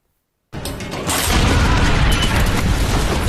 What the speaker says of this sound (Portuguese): explode tudo e eles vão para longe.